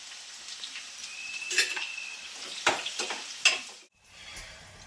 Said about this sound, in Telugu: ఈ ఆనియన్స్ అన్నీ మనం ఫ్రైడ్ ఆనియన్స్ తెలుసుకోండి, అలా మొత్తం డీప్ ఫ్రై చేసేసుకోవాలి